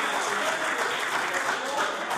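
Parliamentary chamber applause during question period, a steady dense clatter of many hands clapping at close-to-mid distance, mingled with voices.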